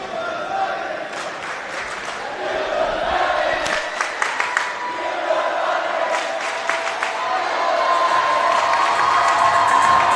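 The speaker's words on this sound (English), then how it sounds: "Lots of cheering. Good crowd here. Good student section for Midwest City High School." A large crowd and a lively student section cheer and shout at a high school playoff basketball game between Carl Albert and Midwest City, with steady roaring noise, scattered whoops and a few sharp claps or whistles throughout.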